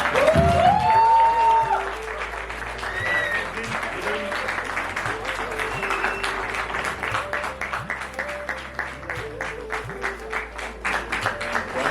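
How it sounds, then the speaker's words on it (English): Audience at a contact program breaks into sustained applause, a dense wash of clapping that carries on after a brief voice over the sound system at the start. "The big round of applause."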